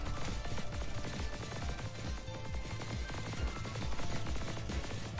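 A heavy machine gun in the video game Honkai Impact 3 fires in rapid continuous bursts, a dense rhythmic stream of shots with booming low thuds, loud and sustained throughout.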